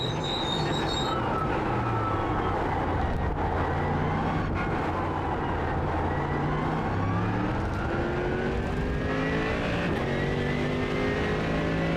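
A race car at full throttle at Spa on cold tires, engine screaming loud and close in a sustained flat-out run with rising and falling harmonic pitch as the car sweeps through the corner.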